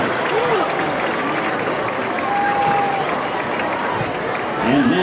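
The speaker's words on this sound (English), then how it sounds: "Let's give our junior court a round of applause." A crowd at a high school football game claps and cheers for the junior homecoming court, a broad, steady wash of applause with voices mixed in through the stadium.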